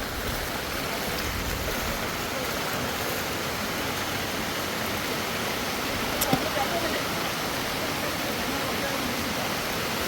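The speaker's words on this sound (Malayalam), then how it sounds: "കാലവർഷം കനത്തിരിക്കുകയാണ് ഭയങ്കര മഴയാണ് കേട്ടോ" Heavy monsoon rain pours down in a steady, dense hiss that fills the whole stretch without a break, loud and even, with only a faint knock midway.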